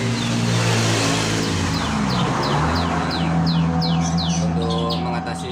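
A green leafbird (cucak hijau) sings a run of quick, repeated chirps and whistles over a steady background hum of engine and traffic noise, the notes clear and close.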